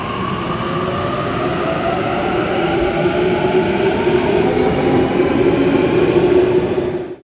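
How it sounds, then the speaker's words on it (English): A Sydney commuter train pulls away from a station platform with a steady, rising rumble and hum of traction motors that grows slightly louder over several seconds before cutting off. "The train departs on time."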